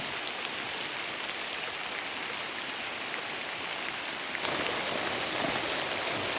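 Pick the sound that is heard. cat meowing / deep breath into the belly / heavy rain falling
heavy rain falling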